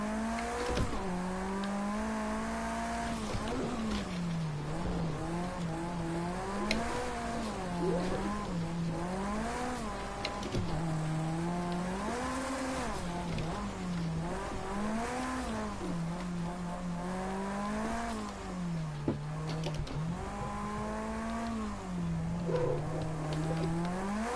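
A Rallycross race car with Carlos Sainz livery in Project CARS 2 drives steadily, its engine note climbing and dropping through repeated shifts and throttle lifts, loud and continuous with brief clicks of gear changes.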